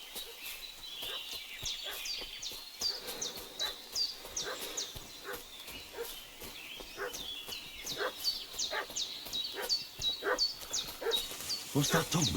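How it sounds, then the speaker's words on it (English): A dog in Kingdom Come: Deliverance 2 barks repeatedly in sharp, uneven bursts at a moderate distance over a buzzing insect-like ambience, with no speech. "What's that dog making such a fuss about?"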